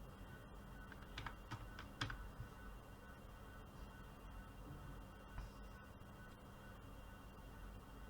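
Faint keystrokes on a computer keyboard as a word is typed into a search bar, a short quick burst of clicks near the start and a lone tap later over a quiet room hum.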